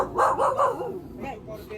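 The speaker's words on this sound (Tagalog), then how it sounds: "Baka po kagatin po ako ng aso nyo" A dog at a house in Candaba, Pampanga, gives a few quick, close barks and yips in a tight burst, then quieter whimpering sounds trail off.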